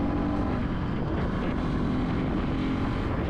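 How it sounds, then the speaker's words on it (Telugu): A Bajaj Pulsar NS 200 with a triple spark engine, ridden on an uneven road: a steady, continuous engine drone with wind rush, loud and close, with no talk. "ఇది ట్రిపుల్ స్పార్క్ ఇంజిన్ దట్టు"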